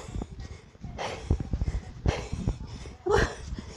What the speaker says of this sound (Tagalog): Hingal po guys. Hingal.